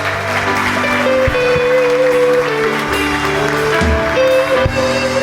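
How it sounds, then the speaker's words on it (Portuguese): Church congregation applauding during a Portuguese-language service, a dense sustained clatter of many hands heard alongside music and organ-like held tones for a few seconds. "Aplauda o Senhor."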